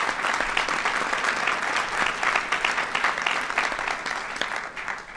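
Guests at a yeshiva fundraising dinner applaud, a full sustained burst of many hands clapping in a large room, steady and fairly loud before easing off at the end.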